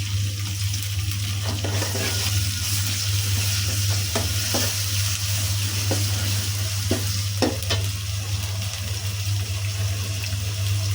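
Chopped onion with ginger-garlic and garam masala paste fries in a pan under a constant loud sizzle, with intermittent stirring clinks and scrapes and a low steady hum beneath.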